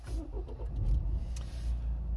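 A diesel Renault Scenic 2 engine cranks and starts, then settles into a steady, close, low rumbling idle with no talk over it.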